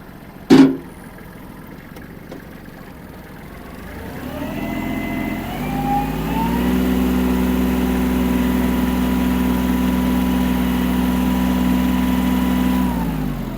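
A Kubota GL-23 Japanese mini tractor engine starts with a sharp bang, then settles into a steady, droning run with a low rumble and a faint whine, continuing without pause.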